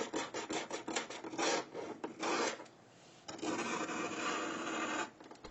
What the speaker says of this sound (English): Razor blades, on the other hand, will scratch the phone just fine.